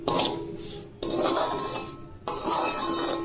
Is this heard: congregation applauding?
no